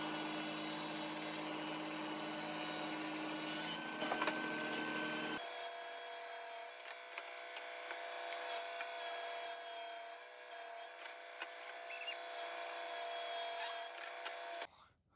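A strip of walnut is cut on a power saw, a steady high-pitched whining cut that runs continuously for about fifteen seconds, with the tone shifting partway through before it stops abruptly.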